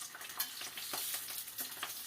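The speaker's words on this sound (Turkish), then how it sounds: "Şimdi biraz alt üst patatesleri kızartacağız." Potatoes fry in a hot pan with a dense, continuous crackling sizzle and occasional soft stirring taps, fairly close.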